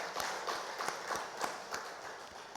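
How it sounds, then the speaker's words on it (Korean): Church congregation clapping to celebrate members' birthdays during a Sunday service, a steady moderate patter of many hands with regular accented beats, as if clapping in time. "우리 박수로 축하합시다"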